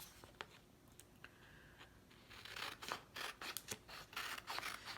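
Scissors trim paper from the bottom of a planner page, with faint isolated snips at first, then a quick run of close, crisp cuts.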